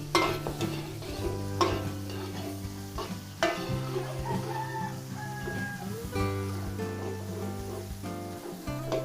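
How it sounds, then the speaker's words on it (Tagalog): Garlic and plenty of onion sautéing in a pan, a soft close sizzle with a spatula scraping and clinking now and then over a steady low hum, no voices. "Nagluto na ang bawang, sibuyas, marami-rami ring sibuyas."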